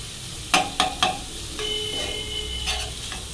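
A spoon scrapes and stirs minced keema momo stuffing in a pan, with three sharp clacks followed by a soft continuous sizzle and scraping, close and alone without speech.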